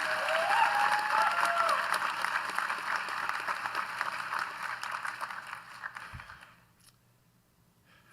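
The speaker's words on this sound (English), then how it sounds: "give him a round of applause again" Sustained applause from a graduation ceremony audience, a dense steady clatter of many hands with some cheering mixed in, fading away toward the end.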